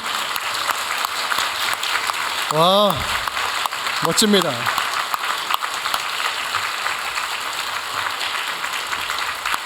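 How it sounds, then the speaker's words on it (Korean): A Korean Sunday worship congregation applauds steadily, with a couple of voices calling out excitedly partway through the clapping. "우리 박수로 하나님께 영광 올려드리겠습니다."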